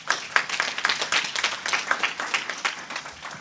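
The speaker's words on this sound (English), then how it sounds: "Give him a round of applause just to encourage them" An audience at a foodtech demo day breaks into brief, dense applause, a steady patter of many hands clapping up close for a few seconds.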